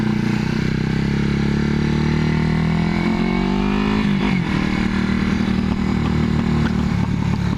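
A 1981 Yamaha XS400 Heritage motorcycle out on a test ride, its engine droning steadily and loudly up close, pitch sliding down and then climbing again as the rider shifts and accelerates, with wind and mechanical clatter throughout.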